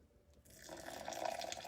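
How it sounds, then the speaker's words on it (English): Hot water poured aggressively from a kettle onto ground coffee for a pour-over bloom, starting faint and swelling into a splashing, trickling stream that grows louder toward the end, with no talking. "Pour your water aggressively, let it really splash and agitate."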